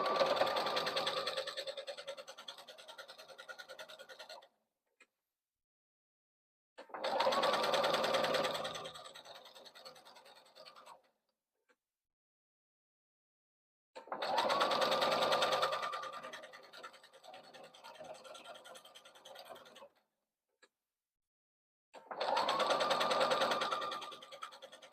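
Sewing machine stitching a quarter-inch seam on a crossbody bag, four loud close bursts of rapid whirring, each a few seconds long, separated by clean silent pauses.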